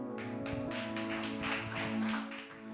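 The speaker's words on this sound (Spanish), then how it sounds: "los invito a darle un fuerte aplauso" A church congregation claps in quick, rhythmic bursts for its pastor Humberto, the steady beat sounding against sustained musical tones throughout.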